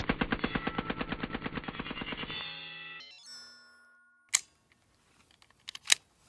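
Rapid burst of .22 shots from a Taurus TX22 pistol fitted with a forced reset trigger, firing fast and evenly for about two and a half seconds outdoors, then a ringing tail and a couple of sharp clicks and clacks.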